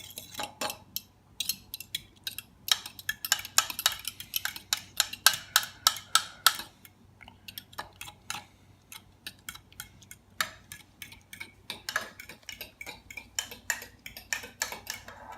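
A fork rattles and clinks against a cup while beating eggs for a bacon omelette, in quick bursts of light metallic taps with brief pauses, close and fairly quiet.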